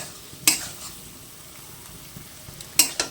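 Potatoes are stirred and fried in a pan, giving a soft steady sizzle broken by two sharp scraping clinks of a utensil against the pan, one near the start and one near the end.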